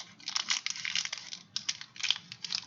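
Scissors snip and crunch through crinkly material in quick, uneven bursts of close, crisp cutting sounds with a short pause midway.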